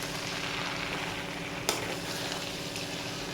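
Spinach frying in a pan for palakura fry, stirred from the bottom up: a continuous close sizzle with one brief scrape of the spoon midway, and no talk.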